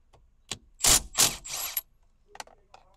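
A size 19 socket wrench works loose the steering wheel nut on a Perodua Myvi, giving a few close, sharp metallic ratcheting clicks followed by longer grinding turns, then quieter scattered clicks.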